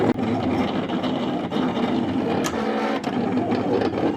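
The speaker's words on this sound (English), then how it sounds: "As you can see, the machine is now cutting the red lines" A Silhouette cutting machine cuts a sticker sheet with a continuous mechanical whir and buzz, broken by occasional clicks and brief shifts in pitch as the blade carriage moves, loud and close without talk.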